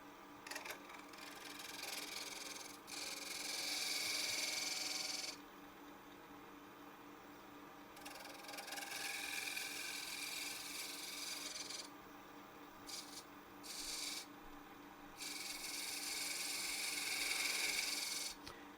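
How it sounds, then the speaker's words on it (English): A 1/4 inch detail gouge cuts a bead on a wooden acorn box turning on a wood lathe, giving a close, scraping whir that comes and goes in several stretches between quieter pauses of spinning. "I'm going to switch to a tool that works for more delicate detail cuts. And I'm using a 1/4 inch detail gouge from Doug Thompson."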